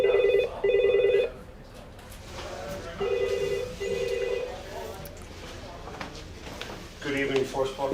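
An old-style telephone bell rings in short repeated bursts at a country house hotel reception, left unanswered, with a faint voice and background bustle between the rings.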